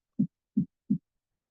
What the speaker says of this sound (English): it starts to feel more underwater or like a heartbeat